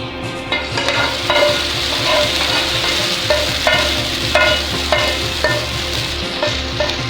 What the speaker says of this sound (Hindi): अब इसको मैं हलीम को तड़का लगा रही हूँ